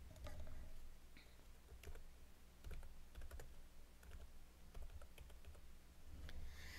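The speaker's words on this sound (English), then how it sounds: "now we can start typing in our text" Rapid, irregular clicking of computer keys being typed, close by, with a low steady hum underneath and no voices.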